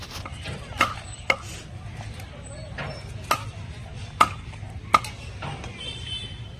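A knife chops greens and radish on a board in about half a dozen sharp, separate strokes at an uneven pace, while faint voices murmur in the background.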